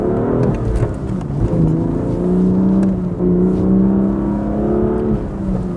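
A BMW M2 Competition's twin turbo engine pulls through the gears, a steady, close engine drone with shifts and rising revs, heard from inside the car.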